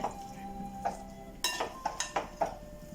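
Avial, a mixed vegetable dish with sour green mango, being stirred in a pot, giving a series of close clinks and scrapes of the spoon against the metal that grow sharper and more frequent toward the end.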